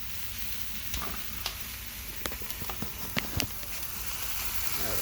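Venison fries in a hot pan with a steady, close sizzle, broken by soft irregular pops and light scraping as the meat is moved.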